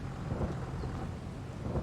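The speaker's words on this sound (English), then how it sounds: "The rain's matching my mood right about now" Steady rain in a farming video game, a dense, even hiss with low rumble and gusty wind-like noise running throughout without any break, no voices present.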